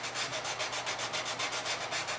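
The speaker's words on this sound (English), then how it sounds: "sand down here into this corner on the kerfing strip" Rhythmic back-and-forth rubbing of an adhesive sandpaper strip against the wooden binding and kerfing channel of a guitar under restoration, a steady scratchy stroke repeating about five times a second, close and alone.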